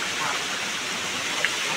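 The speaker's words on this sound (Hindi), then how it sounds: "देखो भाई सामने वाटर भाई अपना ये झरना" Devkund Waterfall in India during a monsoon trek roars with a steady, dense rush of falling water, continuous and loud with no pauses.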